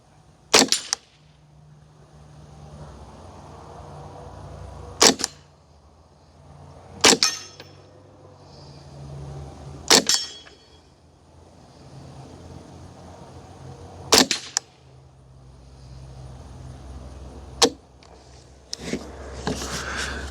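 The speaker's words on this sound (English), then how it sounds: "especially shooting suppressed with this 1022" A 10/22 rifle fitted with an Anechoic X22 suppressor fires seven or eight single shots, each a sharp, short, fairly quiet crack spaced a few seconds apart, with faint rustling between them.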